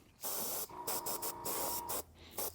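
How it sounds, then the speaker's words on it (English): An airbrush or spray can hisses in short, close bursts while coating a Battletech Mad Cat miniature, a few quick sprays separated by brief pauses. "as we're spraying our Mad Cat here"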